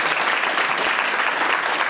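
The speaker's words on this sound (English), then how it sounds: "let's give him a round of applause" A dense, steady round of audience applause fills a community graduation gathering, many hands clapping loudly and evenly with no break.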